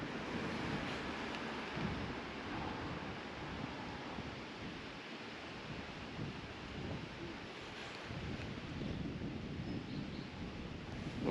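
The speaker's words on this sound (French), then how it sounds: "Alors, le vent commence à se lever." Wind gusts across open marshland in the Marais Poitevin, a steady broadband roar that swells and eases, loud and close as it buffets the microphone throughout.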